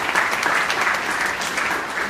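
Guests at a Rising Leaders reception in downtown Topeka clap enthusiastically, producing a brisk, continuous burst of applause from a moderate crowd that holds steady throughout with no speech over it.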